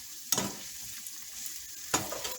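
Broccoli sautéing in a pan for an omelette, a soft steady sizzle broken by two sharp utensil scrapes, close and quiet, with no speech.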